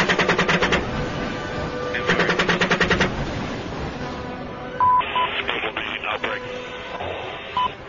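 Gunfire from an Apache helicopter in a video game comes in rapid, evenly pulsed bursts, two long strings followed by shorter ones, mixed with radio chatter and electronic cockpit beeps.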